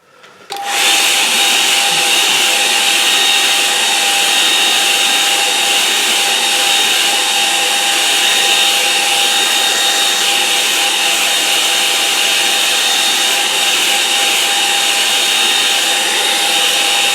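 A hair dryer blows over a watercolour painting, a loud, steady whirring roar that starts abruptly and runs without a break, with no talking.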